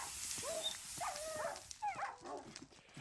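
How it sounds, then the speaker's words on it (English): Tamed wolf dogs in a Minecraft Bedwars match giving short whimpers and yips, several high whines in quick succession amid game noise, fairly faint. "I killed all of his dogs except this one."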